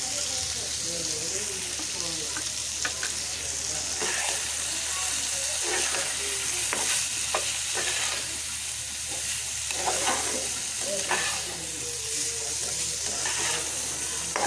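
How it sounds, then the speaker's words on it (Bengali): Cauliflower frying with chicken in a pan for a Bengali chicken and cauliflower dish, a steady oily sizzle with repeated scraping stirs of a spatula and a faint voice low in the background. "ফুলকপিটা কিন্তু ভালোভাবে ভেজে নিতে হবে যেন ভাজার মধ্যেই সিদ্ধ হয়ে যায়।"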